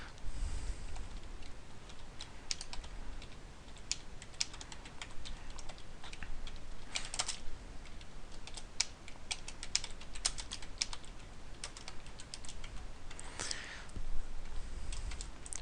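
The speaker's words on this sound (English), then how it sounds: "So you can just type in whatever you want." Steady typing on a computer keyboard, quick irregular clicks of keys close by and fairly quiet, with occasional faint voices in the background.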